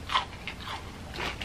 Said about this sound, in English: I'm chewing with my mouth open.